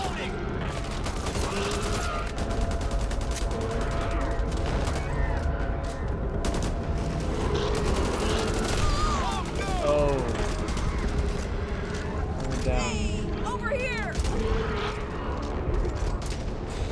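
Bursts of rapid gunfire in the co-op zombie shooter Back 4 Blood, mixed with creaking mechanisms and creature noises, loud and continuous, while players chat over it.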